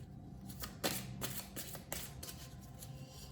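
A deck of tarot cards is shuffled in a quick, soft riffling flurry. The shuffle is faint but close, over a steady background hum, with no talking.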